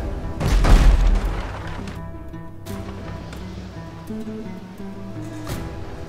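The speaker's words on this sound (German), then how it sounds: "Ich konzentriere mein Feuer trotzdem auf den Arzt." Cannon fire in the pirate ship game Abandon Ship: one deep, heavy boom near the start that rumbles and fades, followed by quieter game sounds and music.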